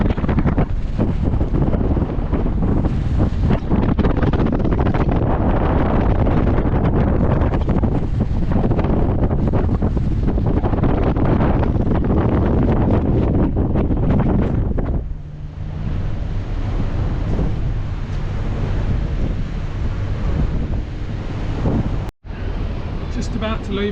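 Strong wind from Tropical Cyclone Alfred batters the microphone on a cruise ship at sea off Papua New Guinea, with surging waves underneath. The roar is loud and constant, then eases slightly partway through before a brief dropout.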